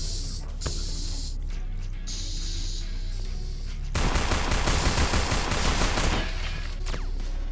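Rapid gunfire from Space Station 14 gameplay, with a skeleton firing seemingly endless rounds; a dense, sustained burst of shots crackles for a couple of seconds amid steady game background noise.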